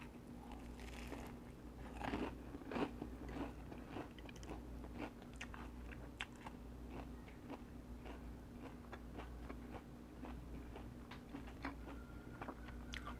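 Close chewing and crunching from someone eating a Vietnamese pho noodle meal with dumpling-like filling, steady mouth sounds running throughout over a low background hum, with no talk.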